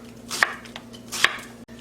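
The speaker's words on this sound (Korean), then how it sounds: "양파를 4분의 1 정도 썰어 주세요." A knife chops through a quarter of an onion on a cutting board with two crisp, evenly spaced cuts, close and clear, with no voices.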